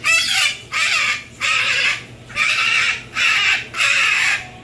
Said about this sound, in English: Are you a noisy bird?